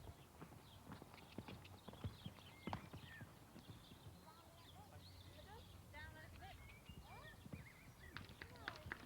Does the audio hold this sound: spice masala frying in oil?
no